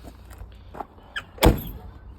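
A Daimler Sovereign car door, a model the same as the Jaguar XJ6, with an outside handle that sticks: a few light clicks of the latch, then one solid, near thunk as the door shuts.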